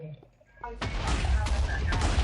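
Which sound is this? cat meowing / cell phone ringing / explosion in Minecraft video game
explosion in Minecraft video game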